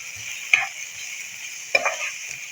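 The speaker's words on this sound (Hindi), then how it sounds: "इसको भी हम थोड़ी देर फ्राई कर लेंगे। छोटा सा मैंने प्याज लिया है, हम ये शामिल कर लेंगे।" Onion frying in a pan for chicken paratha, a faint steady sizzle broken by two brief scraping stirs of a spoon, close and quiet, no speech.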